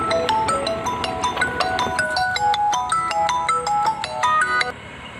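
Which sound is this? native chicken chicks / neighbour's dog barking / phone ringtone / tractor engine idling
phone ringtone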